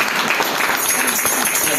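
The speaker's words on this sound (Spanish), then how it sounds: "Dale palmas al Señor" A church congregation claps for the Lord during a service, giving a dense, loud burst of many hands clapping at once, with voices mixed in.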